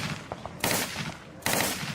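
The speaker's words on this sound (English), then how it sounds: "We hear sporadic gunfire and shelling occurring in the distance as this Israeli squad" Gunfire and shelling sound around an advancing Israeli squad, with two heavy bursts of rapid automatic fire that crackle loudly and fill the air, separated by a stretch of quieter rumbling background.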